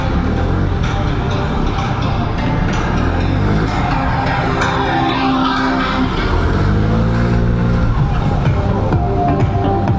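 Suzuki Burgman scooter engine pulling hard under throttle with a high-revving response, a steady loud drone with a rising pitch sweep near the end, heard from the rider's position alongside wind noise.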